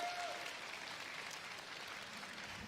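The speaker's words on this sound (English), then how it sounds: "Round of applause says it all" Sustained applause from a live esports crowd at a Splatoon 3 championship event in Seattle, a steady dense wash of clapping that holds evenly throughout at moderate distance.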